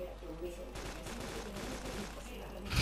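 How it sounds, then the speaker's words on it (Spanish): Gunfire from the military shooter ARMA II: a steady stream of shots and bursts through most of the clip, with a louder blast near the end, under game noise and speech. "Me encanta cuando me disparan."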